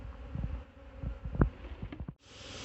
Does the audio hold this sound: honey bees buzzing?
yes